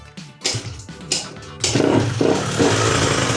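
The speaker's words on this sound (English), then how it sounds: "Right, let's give it a few kicks." Several clattering kicks at a small scooter engine converted to pre-mix fuel with its oil pump removed, then it catches and the motor runs steadily and loudly, buzzing close by.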